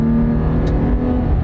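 A truck pulls away hard from a standstill, its engine holding a steady, loud drone inside the cab with no talk over it.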